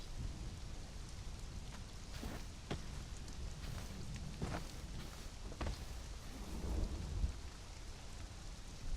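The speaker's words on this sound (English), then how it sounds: "Ooh, lightning storm." Steady heavy rain pours throughout a Conan Exiles thunderstorm, with several sharp thunder cracks and a low rumble rolling through near the end, no talking.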